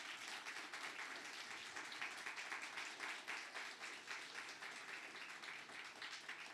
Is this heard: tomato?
no